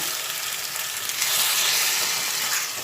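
Lentil-egg fritter masala sizzles and fries in a pan as a little water is added, a steady hiss that swells briefly midway and stays close and fairly loud.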